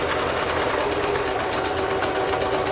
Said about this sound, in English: so then you'll back stitch